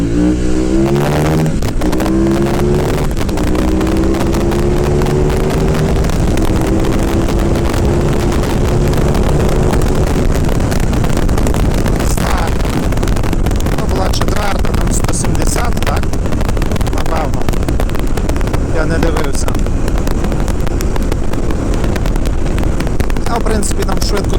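A KTM 990 Adventure S motorcycle accelerates hard at full throttle, engine pitch climbing through several gears under heavy wind rush, loud and close to the rider, with someone speaking briefly over it.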